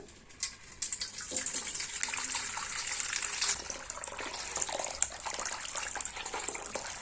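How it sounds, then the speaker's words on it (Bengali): Warm water is poured into a basin, a soft, continuous splashing trickle that rises and falls close by, fairly quiet, with no talking. "এখন উষ্ণ গরম জল দেব এর মধ্যে"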